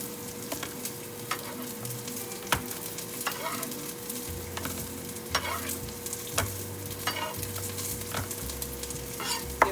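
Onion and garlic cloves fry in a pot for a quick kare-kare, giving a soft, steady sizzle with occasional stirring scrapes and clicks. Faint background music sits beneath it.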